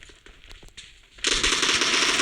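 Rapid automatic gunfire from a video game weapon fitted with extended magazines: a few scattered shots, then a sustained loud burst of fast fire with no talk.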